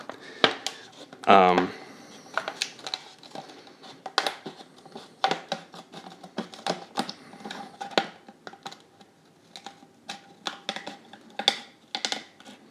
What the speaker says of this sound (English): once you pop, your scissors into the plastic, it's pretty easy to cut it out at that point